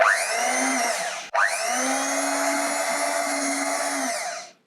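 An electric hand mixer whirs steadily through cardamom pancake batter with vanilla added, a loud, close, even motor drone that cuts out for a moment, then starts again and runs until it stops, with no talking.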